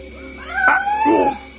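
A cat lets out a sharp, loud yowl after its tail is stepped on, a single rising then falling cry lasting about a second, close by with no talk over it.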